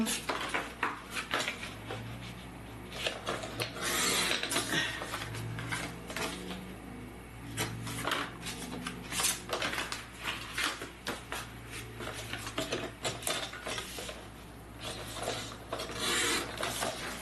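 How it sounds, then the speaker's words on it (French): Blades of a paper cutter or scissors slice through pop-up album paper two sheets at a time for a scrapbooking project, giving repeated close rasping cuts and clicks with short pauses between strokes. "Alors, on coupe tout ça. On va couper 2 à la fois."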